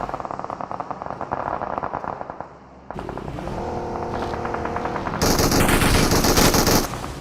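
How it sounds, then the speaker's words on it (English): Rapid automatic gunfire in the battle royale shooter PUBG during a live tournament final, bursts of shots crackling at a distance and then louder, denser fire near the end, with no talk over it. "But I'm gonna switch on to Nefme, who's probably just taking some shots from a distance."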